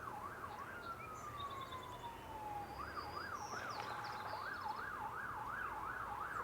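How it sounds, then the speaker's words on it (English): Wailing emergency vehicle sirens carry across an urban marsh set in the middle of town, one long falling tone then rapid rising-and-falling yelps, moderately distant over a steady background of traffic hum. "You can hear the sirens."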